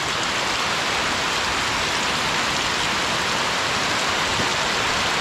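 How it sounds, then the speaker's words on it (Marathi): Heavy monsoon rain pouring steadily in a village at Naringre, Devgad, a dense, constant hiss with no breaks, fairly loud and close, with no voices. "पावसानं जोरच केला."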